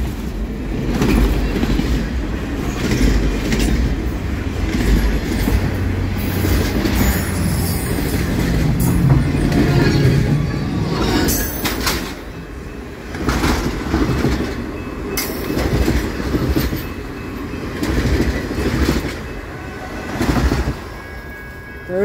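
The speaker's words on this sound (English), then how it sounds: "That was a flying train." The CP Holiday Train rushes past at speed on tracks in Taylor, Michigan, a sustained loud roar of wheels and cars with rhythmic clattering that rises and falls across its length.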